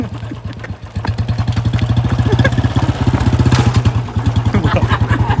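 A Royal Enfield Bullet motorcycle rides at night, its loud, close single-cylinder engine thumping in a steady rhythmic beat that stays strong throughout.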